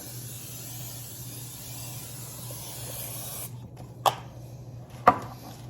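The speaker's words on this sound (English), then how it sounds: "I'm just going quick with my butter spray today." A continuous hissing spray from an aerosol can of butter cooking spray onto a pan for a few seconds, followed by two brief clicks or taps.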